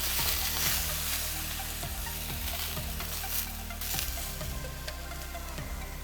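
Chicken pieces frying in a pan for a chicken curry, giving a steady, loud sizzle broken by regular scraping stirs, with no talking.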